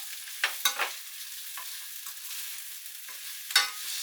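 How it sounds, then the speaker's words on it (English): Onions sizzling as they are tipped into the leftover hot oil from browning beef for a stew, with a few sharp scraping stirs standing out over a constant soft frying hiss. "And then into the remaining oil goes all the onions"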